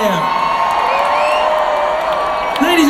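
A live concert crowd at a show cheers, whoops and screams loudly and continuously, a dense wall of voices with rising shouts near the end.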